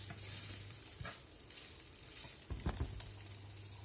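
Food fries softly in a pan with a faint continuous sizzle, punctuated by a few light stirring knocks and scrapes.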